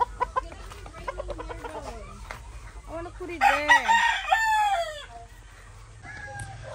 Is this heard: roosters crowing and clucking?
yes